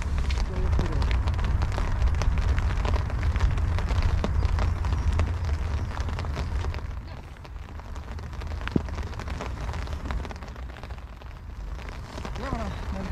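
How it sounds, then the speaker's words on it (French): Rain patters steadily on a golf course near a green, a dense continuous hiss of drops close to the microphone that eases slightly midway, with a voice briefly present beneath it. "Il se remet à pleuvoir."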